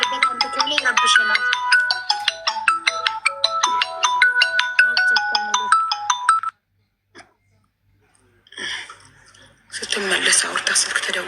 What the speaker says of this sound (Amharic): ስልክ ተደውሎባት